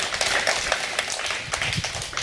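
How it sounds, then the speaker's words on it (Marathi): Schoolchildren in a classroom clap for the winner of a grab-the-object game, a short, lively patter of many hands close by, uneven and busy throughout. "तिच्यासाठी जोरात टाळ्या"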